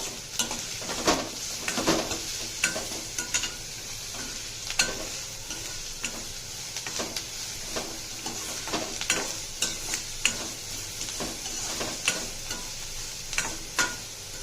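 Poha ingredients frying in a pan as a spoon stirs them, a steady sizzle under repeated scraping and clinking taps on the pan throughout, close and with no voices.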